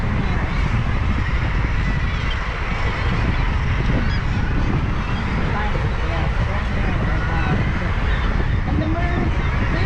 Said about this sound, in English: You might hear some high-pitched whistling noises amongst the racket. That would be the bird chicks